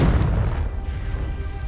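Confringo spell explosion in the Hogwarts Legacy video game, a loud close boom with a deep rumbling tail that slowly fades.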